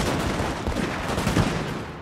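Musket volleys ring out in the Napoleon: Total War battle game, a dense, continuous crackle of many overlapping shots in a sustained fusillade.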